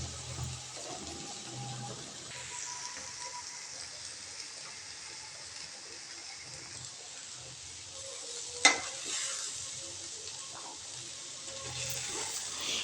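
Soya chunk (meal maker) fry sizzles steadily in a pan while being stirred, a dense hiss under light scraping, with one sharp clink from a utensil near the end; no one speaks.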